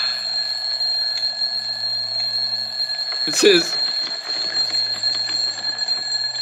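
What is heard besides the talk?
alarm clock ringing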